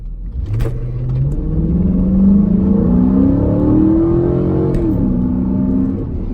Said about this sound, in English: the intake noise is so much louder